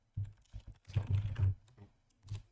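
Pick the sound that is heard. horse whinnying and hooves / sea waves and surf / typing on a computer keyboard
typing on a computer keyboard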